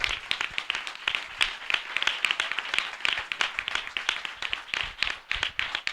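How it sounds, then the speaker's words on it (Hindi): A church congregation claps loudly in welcome, with sharp, distinct hand claps in a lively, slightly uneven rhythm, close and continuous. "हम जोरदार ताली से उनका स्वागत करें।"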